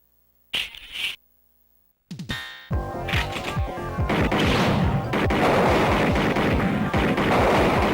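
Loud, dense bursts of rapid gunfire with sharp impacts and clanks fill the scene of the Sega CD video game Snatcher after a brief short shout and a metallic clatter.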